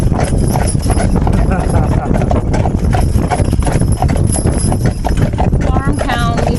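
Percheron draft horses clip-clop along a road past a farm town, steady close hoofbeats under people talking throughout.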